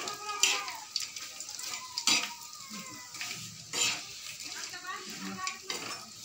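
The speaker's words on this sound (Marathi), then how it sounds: "बोंबी आता मी तळून घेते" Dried Bombay duck fish fried in oil in a kadhai, giving a steady sizzle with bursts of crackling and scraping stirs and utensil clinks, close by.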